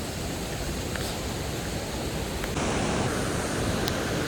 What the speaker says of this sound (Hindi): ये देखो झरना.